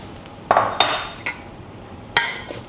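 Metal utensils clink and scrape against a bowl as a breakfast salad dressed with vinegar is moved into it, a few sharp separate clatters with quiet shuffling between them.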